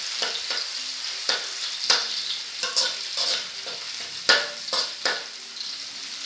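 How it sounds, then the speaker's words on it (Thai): Pounded Thai garlic stir-fried in hot oil in a pan for pork soy-sauce fried rice: a bright, constant sizzle broken by repeated sharp spatula scrapes and clanks, close and loud. "ใส่น้ำมันสำหรับผัดลงไป จากนี้ก็ใส่กระเทียมไทยที่เราโขลกไว้ลงไปเลยนะคะ ผัดกระเทียมให้หอมดีเลย"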